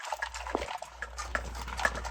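Two dogs eat dog chow and a sports-mix kibble from bowls close by, with soft crunching, licking and clinking against the bowls in an irregular rhythm, and no voices.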